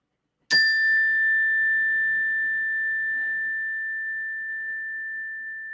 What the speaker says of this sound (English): That's the alarm bell